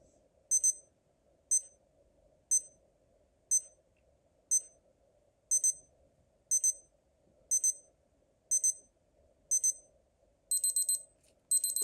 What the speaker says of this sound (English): as it goes forward, less time, it will bleep quicker